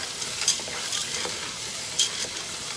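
Frozen peas stirred into a soup pot: a steady low scraping and shuffling with two sharper clinks of the spoon against the pot, close and moderately quiet, no voices.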